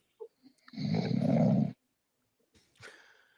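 Loud snoring attributed to bats, one long rasping, growly snore over a second long, followed by a shorter, softer snort, close and prominent.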